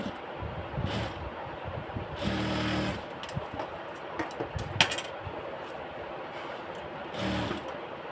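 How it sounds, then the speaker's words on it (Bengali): A sewing machine double-stitches lace and beads onto a pajama hem, running in short bursts with clicks and a small metallic tap between them, close and fairly loud against a steady background noise. "এটাকে এখন ডাবল সেলাই করে দিচ্ছি।"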